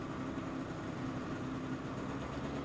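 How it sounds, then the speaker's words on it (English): A 2025 650 Titan Adventure motorcycle engine idles steadily after starting, a low, even, continuous hum heard up close with no talking. "Next, start the engine and ensure there are no warning lights present."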